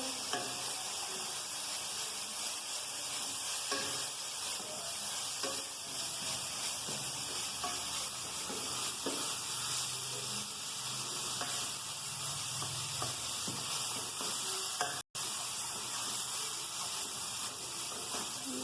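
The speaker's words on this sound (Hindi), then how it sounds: "कढ़ाई से फ्राई कर दिए।" Chicken pieces coated in paste fry in a kadhai with a constant close sizzle and crackling hiss, plus occasional stirring scrapes, for a long stretch without speech.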